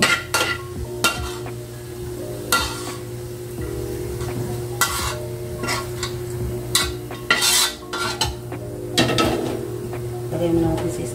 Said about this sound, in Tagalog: Bilhin na natin yung bawang